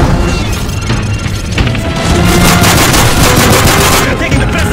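Continuous loud automatic gunfire and booms in a Call of Duty Modern Warfare 3 firefight during an attack on the president, dense and unbroken, with shouted voices mixed in.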